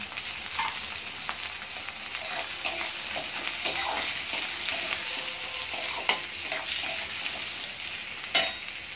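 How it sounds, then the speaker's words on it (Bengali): Chopped tomatoes sizzling in hot oil, with a spatula scraping and tapping against the pan at irregular moments, close and continuous. "এবার টমেটো কুচিটা দিয়ে ভালো করে ভেজে নেব।"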